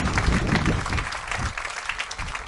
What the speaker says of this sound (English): How about a nice round of applause for the MAC for being our hosts here.